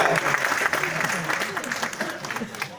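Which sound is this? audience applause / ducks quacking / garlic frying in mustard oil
audience applause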